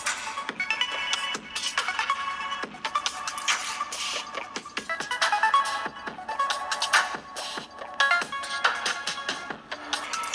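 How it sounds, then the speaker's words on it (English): Music playback from the Mi 11X Pro and iQOO 7 Legend smartphone speakers, bright and steady with crisp rhythmic hits and no talking over it. "the Mi 11X Pro with its true stereo speaker setup actually sounds louder and slightly fuller as well"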